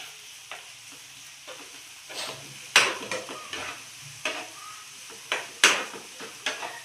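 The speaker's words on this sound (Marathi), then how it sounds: "आणि आता आपण टाकूया अद्रक लसूण आणि मिरचीची पेस्ट" Ginger, garlic and chili paste frying in a pan with bitter gourd for a Maharashtrian karela bhaji, heard as a steady low sizzle broken by repeated stirring scrapes and utensil clinks, close by with no talk.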